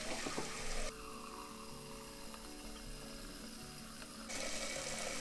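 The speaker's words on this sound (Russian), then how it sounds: "Наливаю я воду." Water poured into a 3-litre pot for nettle soup, a steady close rush of running liquid lasting a few seconds, with no talking.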